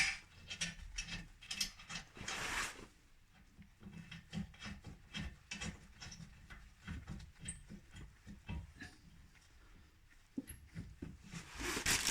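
A hand ratchet clicks in quick bursts as it tightens a second bolt during a rear brake job on a 2021 Mitsubishi Eclipse Cross, with short pauses between strokes at close range.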